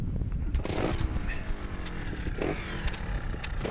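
Trials motorcycle engine being started and idling, a rough uneven putter with a few revving surges, moderately close, with faint talk in the background.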